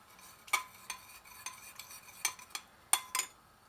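Utensil stirring egg yolk into a celeriac mixture in a bowl, a run of sharp clinks and scrapes against the dish at an uneven rhythm, close and clear, with no talk.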